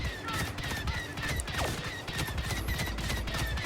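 Leia's blaster in Star Wars Battlefront 2 fires on regular fire in a quick, even series of sharp shots. The bursts repeat steadily over a faint game background.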